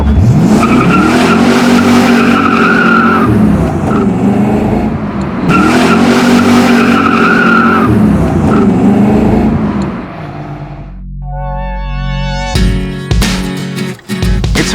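A V8 Miata with a 5.0 engine accelerates hard in two loud bursts of engine roar with squealing, skidding tires, then drops to a lower rumble with sharp whines and a brief final screech.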